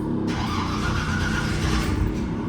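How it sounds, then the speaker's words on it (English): Chevy truck engine turns over and runs with a dense, continuous roar, loud and close throughout, with no voices over it. "I haven't cranked this thing up in a while."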